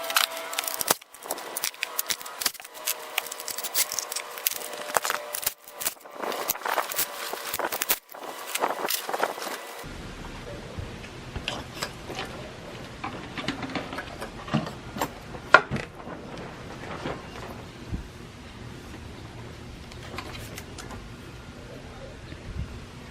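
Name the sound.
removing valve cover bolts on a Hyundai Sonata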